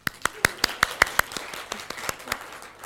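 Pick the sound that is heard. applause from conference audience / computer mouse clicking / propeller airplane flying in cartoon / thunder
applause from conference audience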